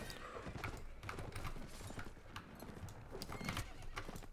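Horse hooves clip-clop steadily with repeated neighs and whinnies in the medieval strategy game Nova Aetas, a busy, continuous mix of cavalry sounds at moderate volume.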